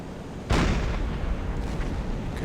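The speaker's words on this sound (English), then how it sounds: "here comes the machine gun fire again" Silent Hunter 4 combat opens with a sudden loud blast, and a rumbling roar of fire continues after it. The sound stays heavy and sustained, with no distinct rapid bursts.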